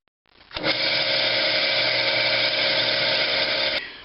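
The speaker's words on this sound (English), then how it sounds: "it's not drilling big enough to break through that wall thickness right there" A high-pitched drill boring into metal whines steadily for a few seconds at close range, then cuts off abruptly.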